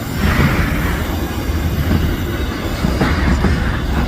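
Australian goods train rolling past on the tracks in the Adelaide Hills, loud and close, with a continuous rumble of wagons, wheel squeal and clickety-clack and no talking.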